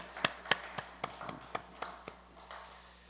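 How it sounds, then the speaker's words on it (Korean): A church congregation at a Sunday afternoon service claps in a slow, sparse rhythm, about a dozen distinct soft claps spaced roughly a quarter second apart, faint and fading toward the end. "우리 한번 이구역 식구들 위해서 박수 한번 쳐드릴까요?"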